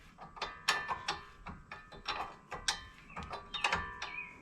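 Wrench clicking and ratcheting while tightening a nut on a Chrysler 200 wheel bearing, a quick series of close, sharp metallic clicks in an uneven rhythm.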